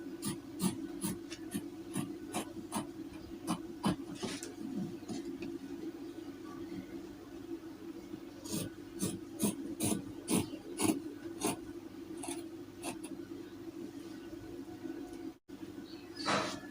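Seam of a dress neckline being unpicked by hand, giving a run of small close scratchy snips and rubbing sounds in irregular bursts over a steady low hum.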